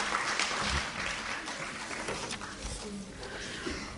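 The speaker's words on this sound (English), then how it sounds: "Let me see a little round of applause" Audience applause at an award gala, a moderately loud, dense patter of clapping that gradually thins out, with faint voices and some low thumps underneath.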